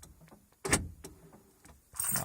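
Mazda 626 central locking engaging its double or super lock, heard close up as a sharp mechanical clunk followed by a few lighter ticks and a brief rattling burst near the end, with no talking over it.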